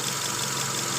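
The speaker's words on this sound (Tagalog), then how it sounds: "Wala siyang vibration. Normal yung andar." Idling engine of a 2011 Toyota Camry after an overhaul, heard close up as a steady, continuous drone with an even mechanical hum and no speech over it.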